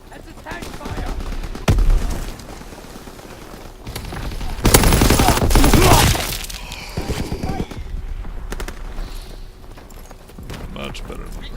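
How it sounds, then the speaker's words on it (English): Heavy tank cannon fire in the Destiny 2 game, a loud booming blast with rumbling debris around the middle, amid scattered gunfire cracks and battle noise while a person talks. "That's a tank fire!"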